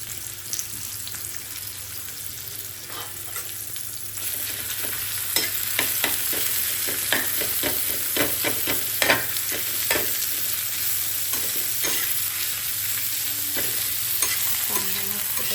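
Chopped onion sizzling steadily in hot oil in a home kitchen, with repeated scraping and stirring strokes from a spatula cutting through the constant frying hiss.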